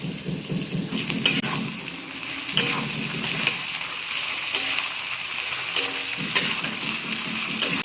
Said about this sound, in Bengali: পেঁয়াজ ভাজা হয়ে গেছে, এখন আমি এখানে দিয়ে দিব আলু